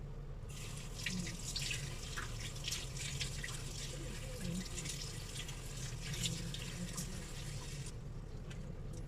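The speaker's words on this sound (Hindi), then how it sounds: "इसको हम थोड़ा वॉश कर लेते हैं पानी से अच्छी तरह।" Running tap water splashes steadily over a cut piece of ginger being rinsed at a kitchen sink, a continuous moderate hiss that stops abruptly near the end.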